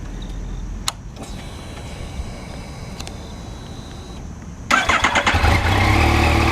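A 2020 Yamaha MT-09 motorcycle starts up after a short stretch of quiet, with a click and whir before the engine catches and settles into a loud, steady rumble close by, with no talk.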